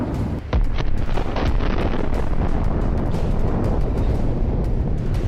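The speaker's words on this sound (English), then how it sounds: "a precise hit to the APC's weak point, and we see a very large explosion" A sudden loud blast as an armored personnel carrier explodes after a hit to its weak point, followed by a long rumbling roar of debris and wind-like noise that continues without letting up.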